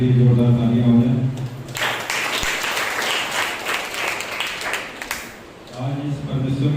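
Applause from a church congregation at a Sunday morning service swells and fills several seconds between stretches of a man's amplified speech, then fades as he resumes talking.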